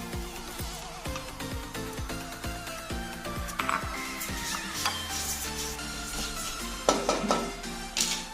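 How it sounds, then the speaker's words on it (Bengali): Mung dal dry-roasting in a pan makes a faint, continuous crackle and rustle, broken by sharp clicks as the grains are stirred, with a soft low hum partway through. "শুকনো খোলায় আমি মুগ ডালটা ভেজে নেবো"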